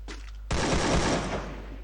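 Rapid gunfire from the video game Free Fire, a short burst of dense automatic shots starting abruptly after a faint lead-in and holding loud for about a second and a half.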